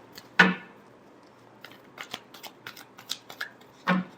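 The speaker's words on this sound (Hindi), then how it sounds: "Last shuffle." Tarot cards are shuffled by hand in a few quick riffles, with crisp papery snaps at the start and end and lighter flicks between them, close and clear in a quiet room.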